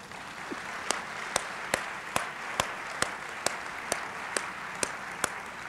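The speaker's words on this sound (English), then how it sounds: "I see a few faculty out there who are really clapping." Applause after the first dirt is turned at a university hall groundbreaking ceremony: a soft, steady bed of crowd clapping, topped by one nearby pair of hands clapping sharply in a slow, even rhythm.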